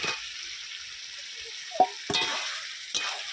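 Fried potatoes being stirred into chicken curry in a pan, with a soft continuous sizzle and a few sharp scrapes and clinks of a spoon against the pot.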